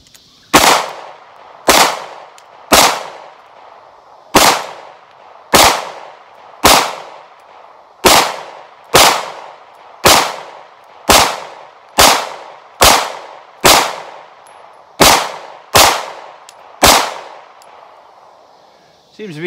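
A pistol with a laser-light combo fires shot after shot at steel targets, around sixteen sharp, loud bangs with ringing metallic clangs, evenly spaced about a second apart with short pauses between.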